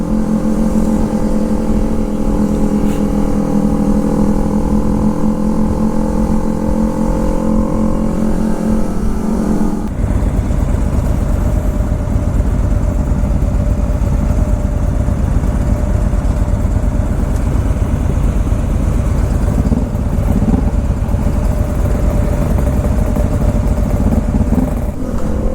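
Kawasaki ZX-25R motorcycle engine running loud and steady on a Sunday morning group ride in Japan, a continuous close drone with a shift in tone partway through, no talking.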